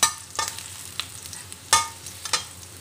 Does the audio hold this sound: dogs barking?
no